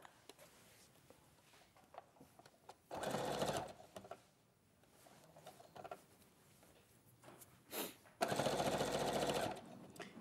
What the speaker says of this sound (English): So I'm going to sew the shoulder.